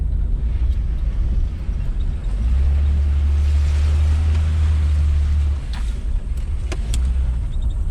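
A car drives through deep mud holes on an off-road track, its engine droning loud and steady with a heavy low rumble that swells through the middle of the run, with sloshing and splashing noise throughout and no talk.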